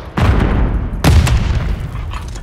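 Semtex grenade blasts in Call of Duty Modern Warfare 3, two heavy booming detonations about a second apart, loud and close with rumbling decay.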